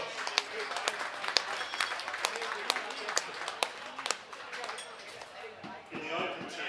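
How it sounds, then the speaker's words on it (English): Scattered audience clapping at a sports awards ceremony for a Super League grand final: sharp, separate handclaps, fairly sparse and moderately close, with some background murmur. "Big round of applause for these two fellows."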